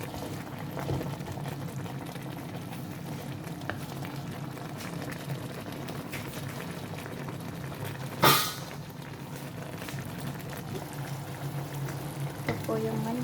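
Continuous crackling sizzle of chicken frying in a pan, with occasional stirring clatter and one brief louder scrape midway.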